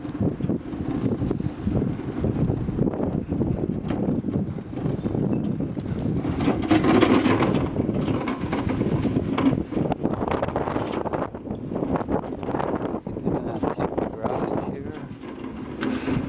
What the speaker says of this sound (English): it's just been epically windy